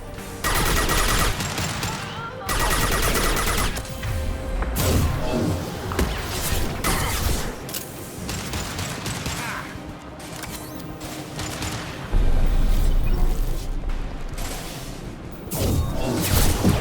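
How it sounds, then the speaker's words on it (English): Dense gunfire and crashing bursts from the Mass Effect video game, loud and continuous with surging volume across the stretch and no talk. "Firing an impact shot!"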